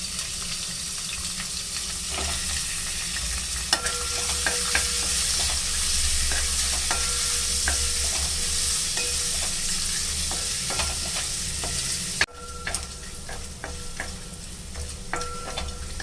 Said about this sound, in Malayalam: ഇപ്പോൾ ഹോൾ സ്പൈസസ് മൂത്ത് വരുന്ന സമയത്ത് അരിഞ്ഞു വെച്ചിരിക്കുന്ന ഇഞ്ചി വെളുത്തുള്ളി ഇട്ട് കൊടുക്കാം